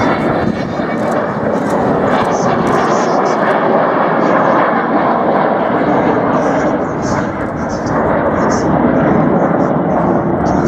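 Avro Vulcan bomber at the Wings and Wheels airshow at Dunsfold, heard as a loud, continuous broadband engine roar that holds steady throughout, with faint crowd voices mixed underneath.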